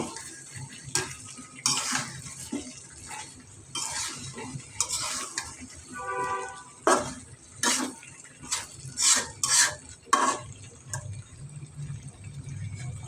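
Large chunks of banana sautéed in a pan, with repeated scraping and clattering spatula strokes against the metal over a soft background sizzle, moderately close and irregular in rhythm.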